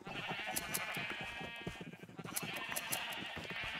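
Sheep bleat repeatedly in a video game, a run of short, fairly loud calls over steady background game audio, with no talking.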